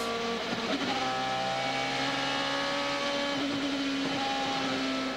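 IndyCar race cars from the 2005 IndyCar Series lapping Kentucky Speedway, a steady engine whine with shifting harmonic tones as the cars run down the back straightaway, continuous and moderately loud with no talk.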